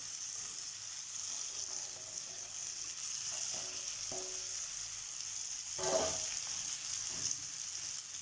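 Finely chopped broad beans stir-frying in a pan, a steady soft sizzle with occasional scraping stirs and a louder hiss partway through, without talk.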